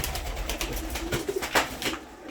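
Pigeon cooing in a show-bird loft of piebald pigeons, a few soft repeated coos close by with light rustling, no talk.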